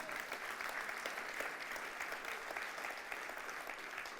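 A large crowd at a church service claps steadily and continuously, a dense, even wash of applause heard from some distance with no pauses.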